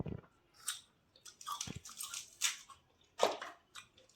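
Someone chews water chestnuts up close, with soft crunchy bites and wet mastication sounds in short, irregular bursts and quiet pauses between them.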